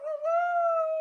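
A person imitating a big Rottweiler barking, producing one sustained, tonal, howl-like vocal note held for about a second, loud and close with no other sound.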